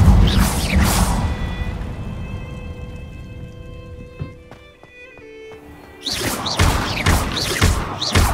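A fire spell cast in Hogwarts Legacy: a burst of roaring flame at the start, a quieter stretch with faint clanks and a thud, then more loud whooshing fire bursts near the end.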